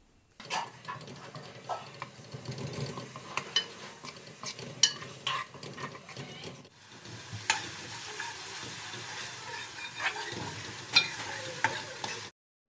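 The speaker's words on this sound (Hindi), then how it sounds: "उसके बाद हम ऑयल डाल रहे हैं और इसको मीडियम फ्लेम पर थोड़ी देर पकाना है" Ginger-garlic paste fries in oil over a medium flame with crushed fennel, crackling and sizzling up close while a spoon stirs and clinks against the pan in uneven strokes.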